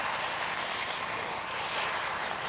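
Aircraft at a warbirds air show pass overhead, making a broad, steady engine roar with a propeller-like drone that holds loud and even across the moment.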